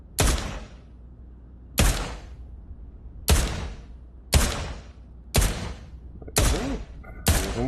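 Seven sharp 1911 pistol shots ring out at a virtual shooting range in Pavlov VR, each a loud crack with a decaying tail, evenly spaced about a second and a half apart.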